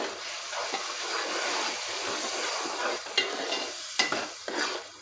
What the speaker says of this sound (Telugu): ఇలా కలుపుకోవాలి ఫ్రెండ్స్